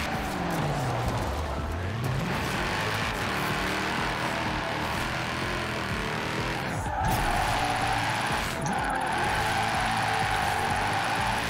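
A car drifts in the racing game Forza Horizon 4, with the engine revving and the tires squealing and skidding steadily throughout, louder bursts near the end, and faint talk beneath.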